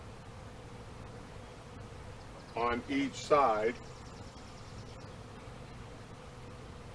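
Honey bees drone softly and steadily in the background around hive frames while a nuc is moved into a hive outdoors, a faint continuous hum that sits under a brief stretch of nearby talk.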